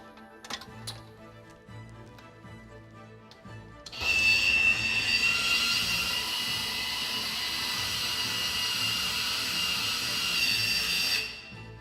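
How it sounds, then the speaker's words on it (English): Eaton Power Xpert XGIS gas-insulated switchgear three-position switch opening electrically: a steady motorized whirring and ticking mechanism runs for about eight seconds after a few faint clicks, then stops abruptly. "I will now open the switch electrically"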